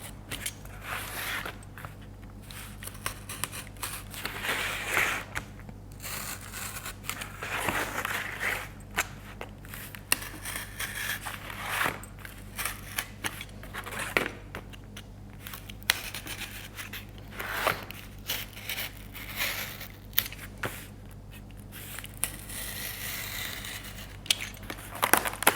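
Cardboard being cut for a reindeer craft, with quiet, close scraping and tearing sounds in uneven short strokes over a low steady background hum.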